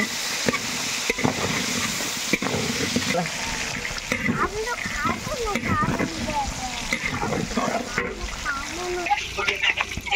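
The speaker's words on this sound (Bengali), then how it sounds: "লাল লাল করে আমি আলুগুলা এখন ভেজে নেব" Potatoes frying in hot oil in a home kitchen pan, a steady sizzle with stirring and scraping running throughout, loud and close, while someone talks over it.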